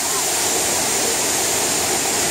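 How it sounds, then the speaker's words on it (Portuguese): A dense, constant roar of falling water, loud and close, like standing near a waterfall: Cachoeira do Serrado in Porteirinha, Minas Gerais, Brazil. "Olha só que maravilha de cachoeira."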